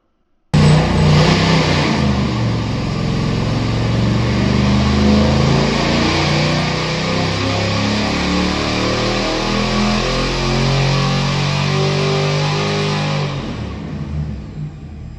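An '86 Fox Body car with a Holley Terminator X setup driving on the road, its engine droning loud and steady for about thirteen seconds with shifting revs before easing off.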